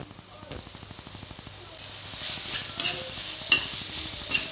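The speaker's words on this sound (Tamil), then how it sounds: "கரம் மிளகா லைட்டாக வதங்கி வரட்டும்" Capsicum sautéing in a pan with mashed tomatoes for veg egg noodles: a steady soft sizzle with repeated scraping stir strokes and a few sharp utensil taps on the pan.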